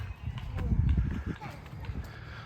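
Horse ridden at a Saudi Arabian park or animal attraction, its hooves clip-clopping in a quick, uneven rhythm close by, with people talking over the steps throughout.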